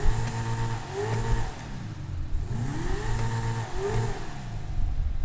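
In Grand Theft Auto Online, a car engine revs again and again with its exhaust roaring. Pitch climbs and falls in repeated swells over a steady mid-range drone, loud and continuous.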